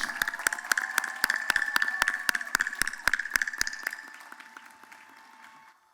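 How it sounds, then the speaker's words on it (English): A commencement audience at Elizabethtown College applauds its doctoral graduates, with dense crowd clapping punctuated by several loud, evenly spaced nearby claps that fade out toward the end. "Please let us have another round of applause for our cohort of doctoral degrees from Elizabethtown College."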